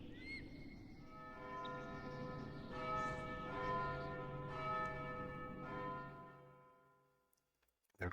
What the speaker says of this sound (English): There goes the bell again.